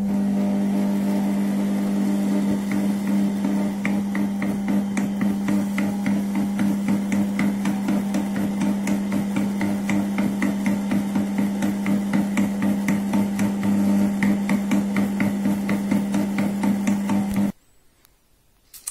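A kitchen mixer runs at speed 1 for a minute, blending butter into a dough. It gives a steady low motor hum with a fast, even knocking pulse, then cuts off abruptly near the end.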